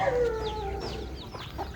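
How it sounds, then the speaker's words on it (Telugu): Close, loud clucking from Sheelam roosters, a few short calls in quick succession against a faint background. "శీలం పుంజులు ఉన్నాయి నా దగ్గర"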